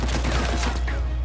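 Minigun fire in Uncharted 4 survival mode, a fast, unbroken roar of rapid shots, loud and close, lasting about a second without pause.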